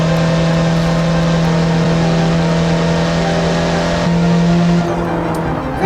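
An F1 car fitted with a 1.9 TDI diesel engine drives in a video game, its engine holding a steady, loud droning tone that shifts pitch near the end, with no talk over it.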